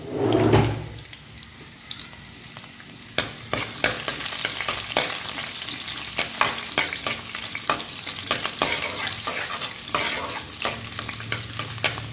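Steady frying sizzle of garlic in a pan with scattered clicks and scrapes of stirring, close by, continuing throughout with no talking.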